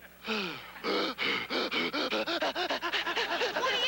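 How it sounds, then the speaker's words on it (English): A person performs exaggerated breathing, starting with a falling gasp and then a long run of rhythmic pants that grow quicker and shorter, close and fairly quiet. "I would like to offer a demonstration of my award-winning breathing"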